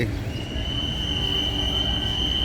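Thai railway freight train 725, an empty flatcar train, rolls past with a steady rumble and a sustained high wheel squeal throughout, close and continuous with no talk.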